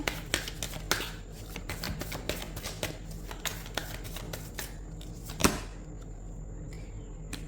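Tarot cards drawn from a deck during a reading, a run of light, sharp card snaps and flicks scattered irregularly over quiet background, with one louder slap near the end.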